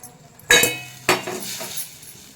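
Fried okra tipped into masala gravy in a pan, two sharp metallic clanks of a utensil against the pan followed by a soft settling sizzle, close and fairly loud.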